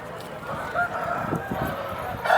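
A ten-month-old rooster at a poultry market, with a short crow standing out amid a busy wash of surrounding bird noise and market bustle, close and fairly loud.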